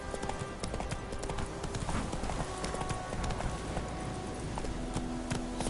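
Horse hooves galloping in The Witcher video game, a dense, rapid clip-clop rhythm that runs the whole time, close and loud, with game ambience behind and no clear speech.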